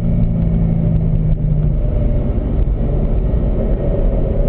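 A 2011 Corvette ZR1 holds third gear down the front straight at Spring Mountain, its V8 giving a loud, steady, close rumbling drone with no voices over it.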